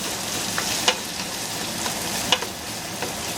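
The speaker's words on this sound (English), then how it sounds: "I'm going to stir it all up" Ham and onions brown in olive oil with a soft steady sizzle, while a utensil scrapes and taps the pan a few times in an even stirring rhythm; quiet and close, no voices.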